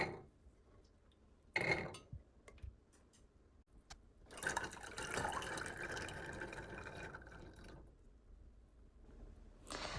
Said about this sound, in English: So let's transfer the chana to the cooker.